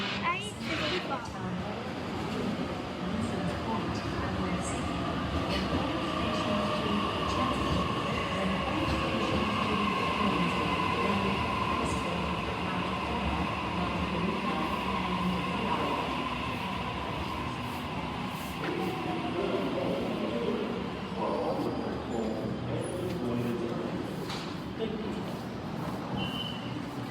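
A Sydney Waratah passenger train on a service to Gower rolls past with a steady, loud rumble and rail noise that holds for the whole stretch, with no pause or fade.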